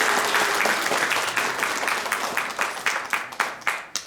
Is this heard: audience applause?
yes